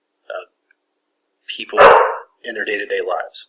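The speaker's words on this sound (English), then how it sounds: "Oops, that's my dog." A pet dog at home gives a short burst of loud, close barks, with a person talking before and after the barking.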